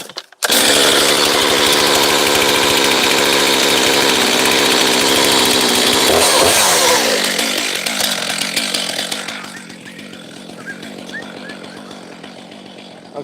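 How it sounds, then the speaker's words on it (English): A chainsaw engine starts on full choke and runs loud and steady while warming up, revving high for several seconds before dropping into a quieter, lumpy idle. "Now we got the chainsaw warming up."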